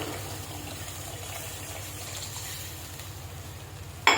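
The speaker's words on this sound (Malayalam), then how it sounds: "ചൂടുവെള്ളം ഇതിലേക്ക് ഒഴിച്ചു കൊടുക്കാം." Steady rushing of hot water being poured into a pan for mackerel curry, continuous and close, with a low hum underneath and a brief clatter at the very end.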